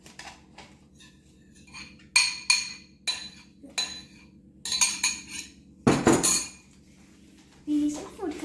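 A spoon clinking and scraping against a cup while egg white and food coloring are stirred for a home science experiment, a run of close, bright irregular clinks with brief pauses, heard alone.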